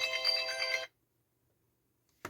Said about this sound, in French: excusez-moi, mon téléphone qui sonne